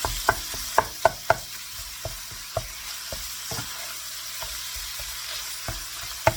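Ground meat browning in a pan for cabbage egg rolls, steady sizzle broken by sharp scrapes and taps of a utensil crumbling and stirring it, close and clear with no talking.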